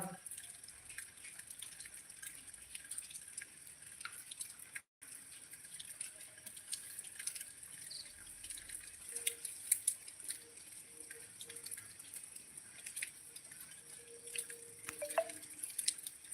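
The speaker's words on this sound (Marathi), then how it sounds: "दिवसभर पाऊस आहे हो ना दिवसभर पाऊस" Steady drips and light patter of rain, soft and continuous in the background, with a constant high hiss throughout and no talking.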